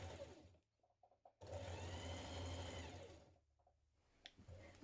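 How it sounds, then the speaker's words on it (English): A sewing machine stitches sleeve hems on a Style Arc Toni dress in one steady run of about two seconds, fairly quiet and close, with brief small handling sounds before and after. "sew back your hems on your sleeves"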